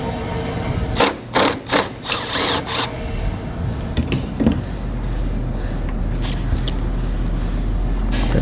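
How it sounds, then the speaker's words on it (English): A ratchet with an extension loosens a 12 mm battery bolt on a 2013 Hyundai Elantra, giving a quick run of loud, close clicking strokes followed by lighter taps and mechanical rattles. "Now we're going to get an extension in our 12 mil and it should come right out."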